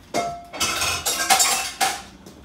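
A frying pan used to cook a Mexican mole mixture, deglazed with broth, clanks and scrapes in a few loud metallic bursts as it is handled and lifted away, with no talking.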